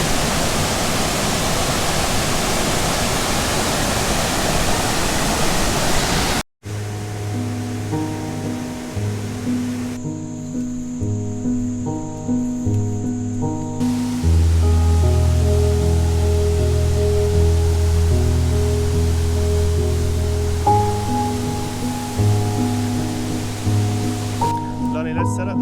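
Waterfall pouring into swimming pools: a loud steady rush of falling water opens alone, then gives way to sustained music with the water faint beneath.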